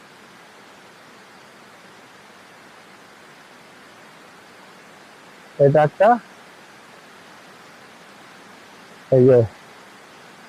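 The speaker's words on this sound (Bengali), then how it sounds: "আজকে ঝর্ণা জলগুলো একটু বেশি আছে" A mountain waterfall on the Madmaheswar trek rushes as steady broadband noise throughout, with someone speaking briefly twice over it.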